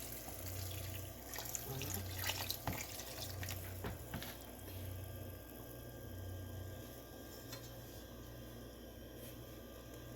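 Water pouring into a cooking pot of plantain foufou on the stove, a steady close hiss of running water with faint clinks, over a low background hum.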